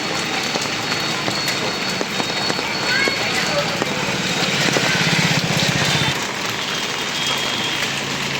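A heavy downpour in Pune with gusting wind makes a steady broadband wash of rain, with people talking faintly amid the noise.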